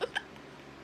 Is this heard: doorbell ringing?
no